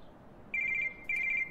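Phone ringing in the Miazma video game: two short electronic trilling rings, fairly quiet, separated by a brief pause, with no talk.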